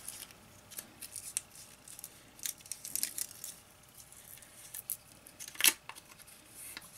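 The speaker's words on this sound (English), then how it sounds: "taking it out of its wrapper" A razor blade comes out of its paper wrapper in a series of soft crinkles and light rustles, with one sharper crisp crackle near the end, quiet and close up.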